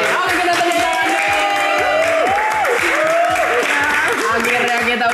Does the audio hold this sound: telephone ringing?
no